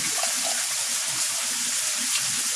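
Steady rushing water pours and gushes continuously into a koi pond skimmer, close and fairly loud, with no voices.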